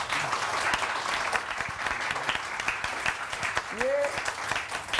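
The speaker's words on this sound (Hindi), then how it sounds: "इन लोगों के लिए सबसे पहले तो बहुत सारी तालियां बजाएं।" A studio audience at a Pakistani morning television show breaks into dense, sustained applause that stays steady and close throughout, with a brief rising vocal whoop near the end.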